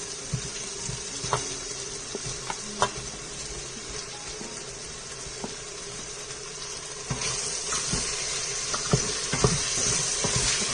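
Fried chicken going into a pot of rice and tomatoes for biryani in an Instant Pot, a steady watery sizzle with scattered soft clicks and scrapes, growing slightly louder near the end, no talking.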